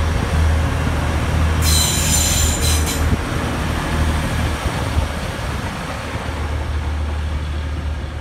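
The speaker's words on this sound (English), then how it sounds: "Cross-country Voyager coming into York Station." A CrossCountry Voyager diesel train pulling into York Station, a steady loud rumble of rolling stock and engine throughout, with a brief high squeal of wheels or brakes early on.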